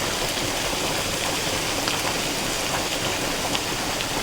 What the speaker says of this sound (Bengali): 1 মিনিট মতো সব কিছু সবজি দিয়ে একটু ভালো মতো ভেজে নিয়েছি